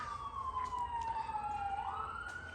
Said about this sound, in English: There's a lot of sirens going past right now.